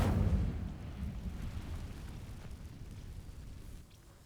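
An Incendio fire spell goes off in the Hogwarts Legacy video game, a booming whoosh of flame that bursts loudly at first, then fades into a sustained rumbling crackle before dying away.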